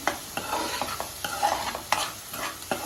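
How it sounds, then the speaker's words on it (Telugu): Masala for green peas chaat (coriander powder, garam masala, salt and chaat powder) being stirred and fried in a pan: steady sizzling with repeated scraping strokes of a spoon, close and moderately loud, with no voices. "మసాలా అన్నీ బాగా కలిసిపోయి పచ్చివాసన పోయేదాకా వేయించుకోండి"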